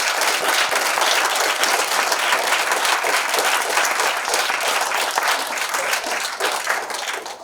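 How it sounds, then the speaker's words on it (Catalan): Loud, continuous applause from an audience at a school and rugby club event, dense clapping from many hands that holds steady before tapering off at the close. "un fort aplaudiment per ells"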